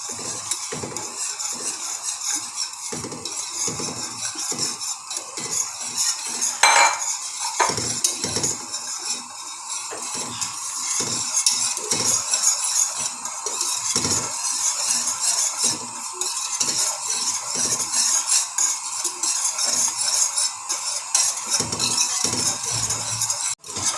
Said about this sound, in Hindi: और आपने साथ साथ हिलाते जाना तो इसकी गुठलियाँ ना बन जाए।